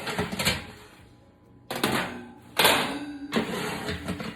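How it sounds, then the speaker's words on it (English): Metal oven racks are slid out of an oven in a few separate bursts of scraping and rattling, loud and close, with short quiet pauses between pulls. "I'm going to take out my oven racks."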